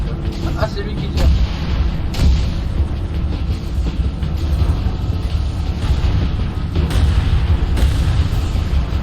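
Gunfire and explosions from the Halo Reach video game, a dense continuous rumble of booms and bursts with sharper hits around the middle, mixed under someone talking.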